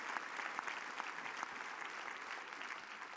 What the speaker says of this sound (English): I want everybody to give another round of applause for the tremendous leadership of CADCA under General Dean and Sue Thau.